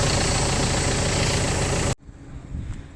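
A farm tractor idles loudly and steadily at close range for about two seconds, then the sound cuts off abruptly, leaving only quiet outdoor background with faint rustling.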